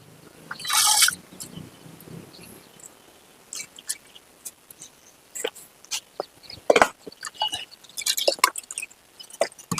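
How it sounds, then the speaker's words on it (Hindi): A handful of wheat grains is soaked in water by hand: scattered wet drips, splashes and squishy handling noises in short irregular bursts, close and otherwise quiet. "गेहूं को पानी में भिगाएंगे 1 मुट्ठी।"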